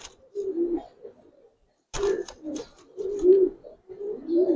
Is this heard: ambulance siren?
no